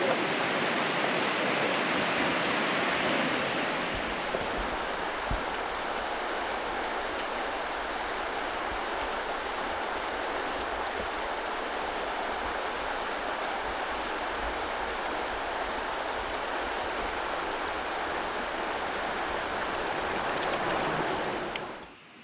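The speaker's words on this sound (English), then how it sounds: "Oh, wow, this river is so gorgeous." A gorgeous river in Idaho rushes steadily, a broad, unbroken wash of flowing water that holds at a constant close, fairly loud level for the whole stretch with no voices over it.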